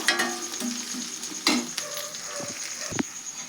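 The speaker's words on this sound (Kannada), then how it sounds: "ಉಳ್ಳಾಗಡ್ಡಿ, ಮೆಣಸಿನ್ಕಾಯಿ ಎಲ್ಲ ಹಾಕಿದ್ದು ಫ್ರೈ ಆಗತ್ತಾವ" Onion and green chillies fry in oil in a pan, a close crackling sizzle broken by several sharp scraping stirs and clanks.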